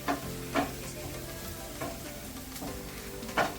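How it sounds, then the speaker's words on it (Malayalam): Chopped capsicum fries in a pan with a steady sizzle, broken by a few stirring scrapes spaced about a second apart, close and with no talking. "അതിട്ട് ഇളക്കി"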